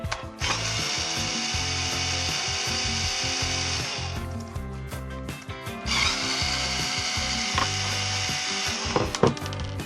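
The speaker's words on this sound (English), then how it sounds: "one of these little power wrenches here. That'll just speed up the tearing apart process" A small power wrench rattles bolts loose while a Blazer is being torn apart, giving loud bursts of buzzing impact and ratcheting separated by short pauses, close by, with clanks of metal parts.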